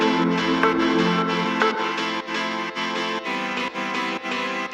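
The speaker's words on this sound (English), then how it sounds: "We also added that 90s piano. I call it piano dance, kind of dance music related." A 90s-style dance piano plays in a house track, bright rhythmic chord stabs pulsing steadily over the mix, loud and upfront without any voices.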